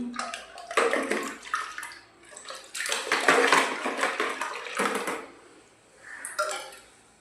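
Water is stirred and sloshed in a container while a cleaning solution is mixed for scrubbing a bathroom, in bursts of close splashing and swirling with brief pauses between.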